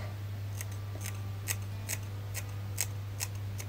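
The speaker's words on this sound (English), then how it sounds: "I'm going to try and match these hair lengths so that I can trim these bits." Scissors trimming hair while cutting a fringe make about eight crisp, evenly spaced snips, close and clear over a steady low background hum, with no talking.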